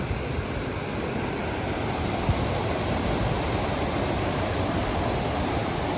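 Hebron Colony Falls in North Carolina, a waterfall with a main drop of about 15 to 20 feet, gives a constant, even rush of falling water with no pauses and no voices.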